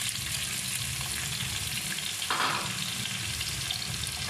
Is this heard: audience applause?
no